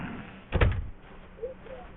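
A single door opens in the video game The Stanley Parable, a short, fairly loud thud-and-swing sound, followed by a faint creaky tail in quiet surroundings.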